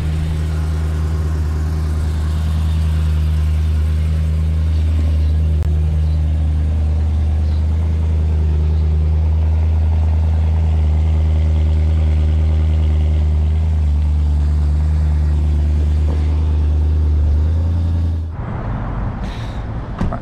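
BMW E92 M3 engine drones steadily from inside the car while driving, a loud, constant low rumble with little change in pitch, easing off near the end.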